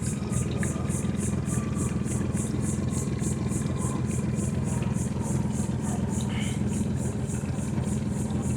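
A Mercury 400-horsepower V10 outboard idles on a Grand Mariner 250 boat in a bay, giving a steady, continuous low rumble at close range throughout.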